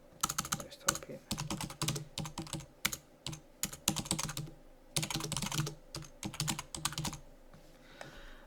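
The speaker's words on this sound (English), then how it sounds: "Let's type in." Keys clatter on a computer keyboard in steady fast bursts with short pauses, close and fairly loud, while typing into a word processor document, with little or no talking.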